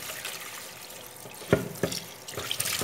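Herbs being washed under a running kitchen tap, soft water flow with splashing bursts as the leaves are moved through the stream, fairly quiet and close.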